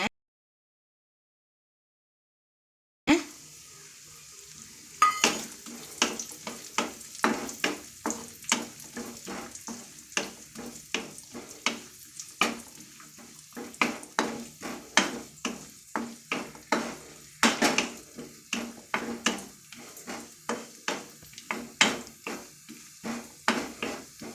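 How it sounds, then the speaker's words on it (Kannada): Raisins and cashews fry in hot fat in a pan for carrot halwa. After a brief silence comes a steady sizzle with repeated scraping stir strokes of a utensil against the pan, close and continuous, no talk. "ಗೋಡಂಬಿ ಫ್ರೈ ಆಯಿತು ಈಗ ನಾನು ದ್ರಾಕ್ಷಿನ ಹಾಕ್ಕೊಳ್ತಿದ್ದೀನಿ ಇದಕ್ಕೆ"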